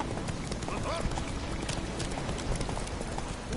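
Roach, the horse in the Witcher 3 video game, gallops with steady rhythmic hoofbeats, clip-clopping close and continuous under a busy game soundscape, with a voice also heard.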